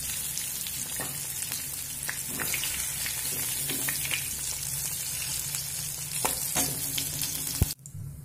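Salt-soaked soybean chunks fry in a pan with a steady, close sizzle, broken by occasional stirring scrapes and a sharp clatter near the end; no one speaks.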